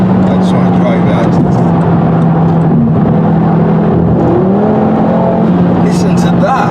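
A 2.5-litre Audi TT RS engine at a car meet gives a deep, growling drone that holds steady and shifts pitch as it revs, loud and close throughout, with people talking over it.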